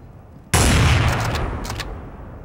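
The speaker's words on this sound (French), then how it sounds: "Vous prenez votre sniper et vous snipez les autres." A sniper rifle fires a single loud, sharp shot in the video game Garry's Mod, the blast decaying over about two seconds.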